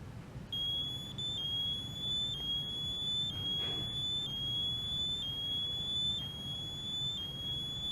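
A bike anti-theft alarm, set off by its accelerometer when the bike is moved, sounds as a steady series of high electronic beeps repeating about once a second over a low background rumble, with no talk.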